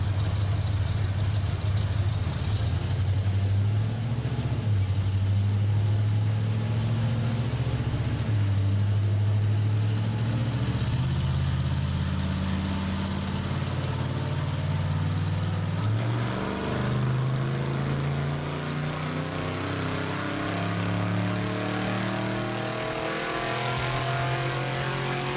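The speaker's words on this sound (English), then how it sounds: "I'm just gonna set up the power pull on the dyno, make a few pulls, and show you the results." A car engine on a chassis dyno during power pulls, revving hard with rising engine tones that climb, drop back and climb again through several pulls, loud and close, with no talk.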